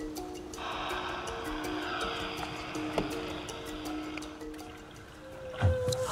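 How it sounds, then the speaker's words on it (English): Humpback whales bubble-net feeding, picked up underwater by a hydrophone: a long, sustained tonal moan holds steady under a crackle of clicks, then rises into a brief louder swell near the end. "we can hear the whales underwater"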